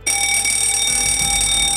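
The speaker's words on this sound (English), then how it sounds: "it led to an audible fire bell alarm" An audible fire bell alarm rings in the cockpit of a British Airways Boeing 777 with an engine fire, a loud, steady, continuous electronic tone that starts abruptly and holds without a break.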